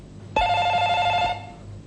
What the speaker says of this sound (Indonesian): ada telepon kok nggak diangkat sih?